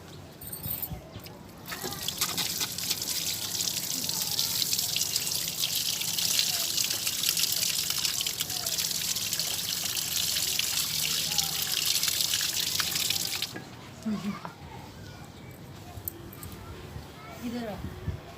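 Dishes being washed under a running kitchen tap, a steady hiss of water flowing for about eleven seconds with clinks and handling noises, then the stream stops and quieter clatter follows.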